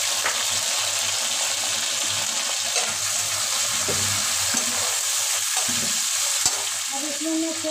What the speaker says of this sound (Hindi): आलू छौंकना है